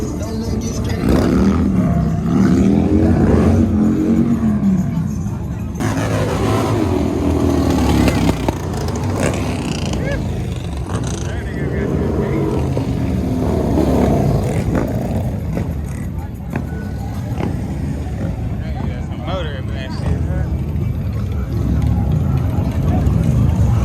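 Harley motorcycles revving at wide open throttle at the Rare Breed weekend 2021 in LA, loud rumbling engine roars rising and falling over a crowd with people talking and shouting throughout.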